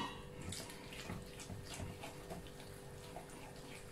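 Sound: stirring flour and water into batter for egg onion cake

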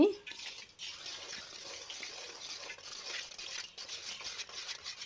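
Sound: stirring Mysore pak mixture in a pan

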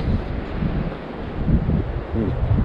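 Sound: strong wind gusts on mountain trail

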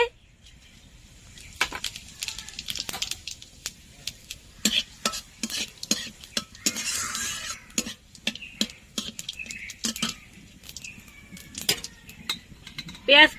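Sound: frying whole dried chillies and cumin

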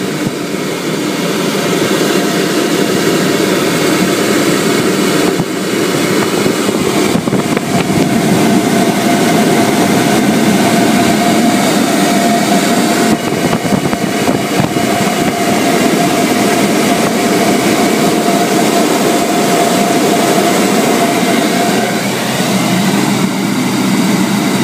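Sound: flowbench blowing air through TVR plenum, turned up

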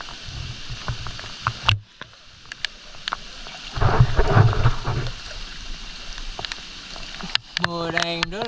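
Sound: heavy rain with thunder

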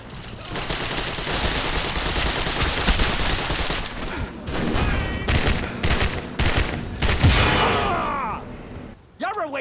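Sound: gunfire in video game Gotham City Impostors

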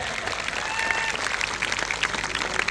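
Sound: audience applause

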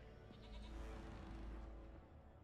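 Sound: goats bleating in The Witcher 3 video game

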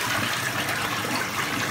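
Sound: toilet flushing

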